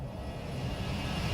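A Boeing 737 passes in a flyby in the X-Plane 12 flight simulator, giving a steady, loud jet-engine roar that holds evenly through the short moment with no voices.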